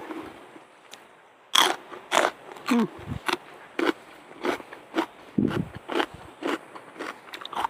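Fresh garden peas picked and eaten raw, bitten and chewed close up in a rapid series of about a dozen crisp, crunchy bites with short gaps between them, over quiet outdoor background.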